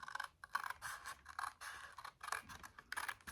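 Scissors snip along a score line, trimming cardstock for a Stampin' Up! one-sheet paper box. The result is a series of close, crisp cutting and scraping strokes in short bursts, with no voice.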